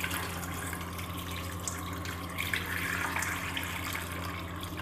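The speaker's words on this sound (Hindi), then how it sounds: "इसमें हम तकरीबन 5 ग्लास के बराबर पानी डालेंगे" Water pours steadily into a pot holding chicken and salt for shami kabab, a constant close splashing gush lasting several seconds without a break.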